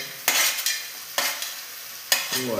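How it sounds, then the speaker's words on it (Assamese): Capsicum and potatoes sizzle in a frying pan, with three distinct scraping stirs of a utensil breaking the steady hiss; near and fairly quiet, no voices. "এতিয়া দিম ক্যাপসিকাম এণ্ড জালা টুগেদাৰ আলু কেইটা দিবা দিম অলপ ভাজি উঠি দিম"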